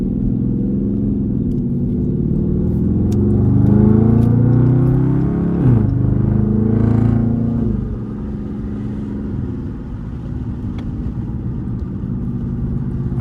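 Dodge Charger RT in track mode heard from the cabin while driving, the engine revving up through rising pitch sweeps and shifting gears, then easing to a lower cruising drone. It is loud throughout.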